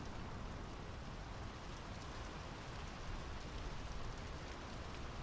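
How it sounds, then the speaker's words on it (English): Steady rain falls throughout a quiet scene in the Draugen video game, a dense, even hiss of drops on surfaces with no pauses, nearby and fairly loud, with no voices over it. "The rain's picking up."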